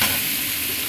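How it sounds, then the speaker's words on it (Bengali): Vegetable curry of pumpkin and soybean being stirred in a pan, a steady close sizzle with scraping of the spoon throughout, no voices. "নেড়ে নিচ্ছি।"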